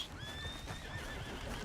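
A horse in Red Dead Redemption 2 lets out a high, wavering whinny that trails off, clear over soft ambient game noise.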